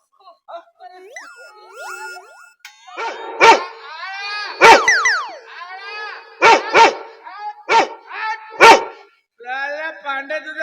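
A dog barks repeatedly at close range, sharp loud barks in uneven bursts, with yips and other chatter in between.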